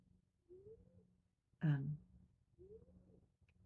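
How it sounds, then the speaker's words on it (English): Someone sleeping snores softly in a quiet room: a whistling breath, then a louder rasping snort, then another thin whistling breath, with long silent gaps between. "snoring"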